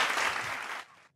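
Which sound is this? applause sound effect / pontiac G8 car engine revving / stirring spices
applause sound effect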